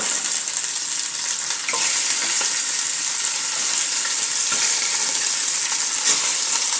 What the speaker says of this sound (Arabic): هسه بدنا نخلي شويه بصل، نخلي القطع مال الدجاج.